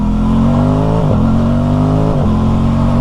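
Aprilia Tuono motorcycle engine revving loudly and steadily up close while riding in dynamic mode, with a quick shifter blip and brief pitch dip at about one and two seconds.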